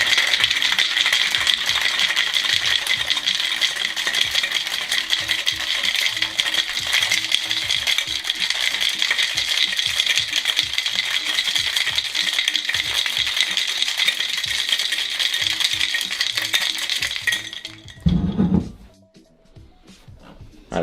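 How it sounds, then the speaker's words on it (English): A cocktail shaker packed with ice is shaken hard, a loud, dense, continuous rattle close up that goes on for about seventeen seconds, then stops abruptly, followed by a brief thump and near quiet. "Now give it a good hard shake for 10 seconds."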